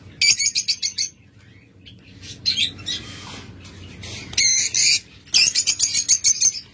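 Small caged cockatiels and lovebirds chirping in quick bursts of bright, high tweets, with short pauses between flurries and a low hum underneath.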